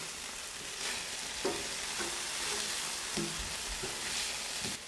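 Cheeseburger patties frying on a Blackstone griddle give a steady close sizzle, with a few soft scrapes and taps from a spatula as they are flipped, no voices.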